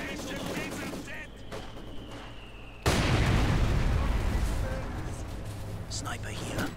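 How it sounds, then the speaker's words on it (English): Gunfire and explosions from a snowy battlefield in Company of Heroes 2, with a sudden loud burst of shots and blasts that erupts partway through and then rumbles on while a voice talks over the combat. "Enemies firing on us!"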